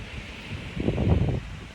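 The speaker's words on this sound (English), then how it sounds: "Super windy out." Strong wind blowing outdoors, buffeting the microphone with a low, steady rumble that swells into a louder gust midway through, with no voices.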